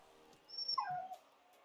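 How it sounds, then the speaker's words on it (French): A dog gives a single short whimpering yelp, a rising then falling whine lasting under a second, fairly close and clear over a quiet background in a Rocket League game. "Mais oui, c'est un bon chien."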